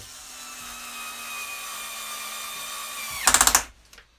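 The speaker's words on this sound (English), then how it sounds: "get the machine polisher on there" A machine polisher runs with a steady whine and harmonic hum for about three seconds, then gives a brief louder burst of noisy whirring before stopping.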